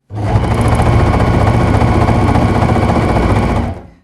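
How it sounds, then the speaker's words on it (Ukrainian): A sewing machine stitches balaclavas in one loud, continuous burst of rapid mechanical whirring that lasts about three and a half seconds, then stops sharply, with no talk over it. "Ми шиємо балаклави для хлопців."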